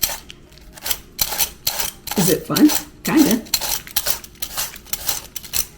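Cabbage chopped with a handheld chopping device, a series of sharp, rhythmic clacking and crunching strokes, close and fairly loud, with brief talking in between.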